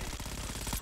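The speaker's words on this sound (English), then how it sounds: "I hear somebody shooting on this side." Rapid automatic gunfire in the shooter game Black Ops 6, a quick burst of evenly spaced shots lasting under a second, loud and alone.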